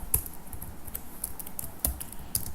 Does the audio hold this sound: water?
no